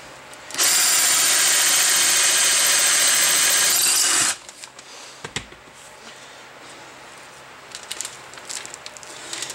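An electric drill bores through a Volvo brake caliper held in a drill jig, a loud steady whine for about four seconds that stops abruptly, followed by quiet scattered handling noises.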